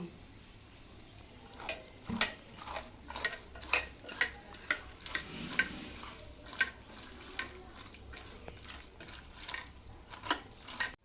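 Prawns being mixed by hand with raw mustard oil in a bowl, giving a run of soft, wet squelching and light scraping strokes in a steady rhythm, close and fairly quiet, with no talking.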